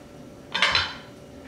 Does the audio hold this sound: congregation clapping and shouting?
no